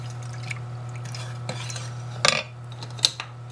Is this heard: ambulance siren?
no